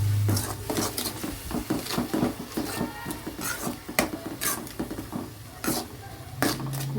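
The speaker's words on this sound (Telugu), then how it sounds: "ఇప్పుడు ఇది కూడా మంచిగా కలిపేసేసుకోవాలి" Fish curry ingredients for a tamarind-based Telugu chepala pulusu stirred together in a metal pot, with repeated scraping and clinking of a spoon against the vessel in a steady irregular rhythm, close and moderately loud, no voices.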